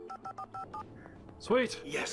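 An in-game telephone in Alan Wake rings in a short burst of repeated electronic trills, followed by a player's excited voice speaking over the game sounds.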